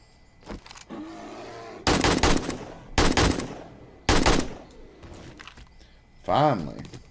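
Four or five loud, separate gunshots in the survival game 7 Days to Die, fired at irregular intervals with brief gaps between them, along with some in-game noise and a faint voice.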